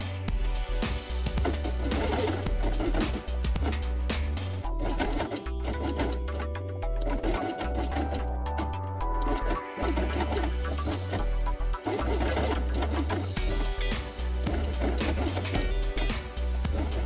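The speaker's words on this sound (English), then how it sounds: "And then sew along the edge." A sewing machine stitches along the edge of felt pieces with white upper and lower threads, a loud, rapid mechanical chatter that runs almost without break and keeps a steady driving rhythm throughout.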